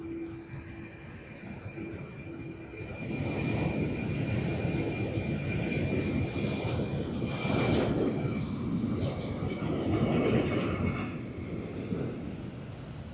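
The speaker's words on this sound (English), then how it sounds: "let's have a look at Finnair on its departure roll." A Finnair airliner accelerates on its departure takeoff roll at Sydney Airport, a distant jet roar that swells after a few seconds and holds steady, with a faint tonal whine early on.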